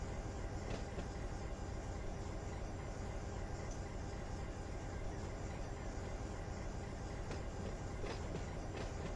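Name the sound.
locomotives in the Run8 train simulator video game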